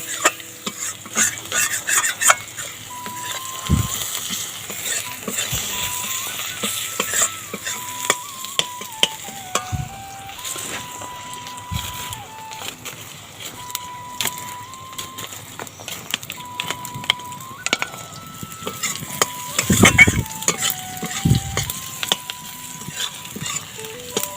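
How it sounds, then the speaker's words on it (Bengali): Spice paste and onions sautéed in a kadai for a fish head curry: repeated close stirring scrapes and utensil knocks over a low sizzle, with a faint melodic tone running in the background. "এইদিকে মশলাটা কষানো হয়ে আসছে"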